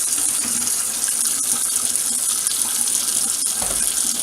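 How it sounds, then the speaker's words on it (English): Kitchen tap water runs steadily into a sink as a constant, loud hissing rush, with no talking. "So I'm just letting my tap get hot here"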